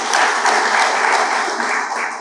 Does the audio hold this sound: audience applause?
yes